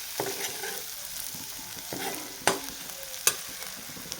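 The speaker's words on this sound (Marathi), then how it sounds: "तर मी मसाला तिखट घालते एक चमचा घातला आहे मोठा घरी बनवलेला मसाला आहे आणि छान परतून घेऊयात" Homemade spice masala with chilli powder is sautéed in an oiled pan, with soft sizzling broken by a few distinct scraping strokes and taps of the stirring spoon.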